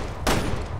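A burst of gunfire from the survival-horror video game Resident Evil: Revelations 2 starts sharply after a short pause and stays loud and dense to the end, like a rapid flurry of shots.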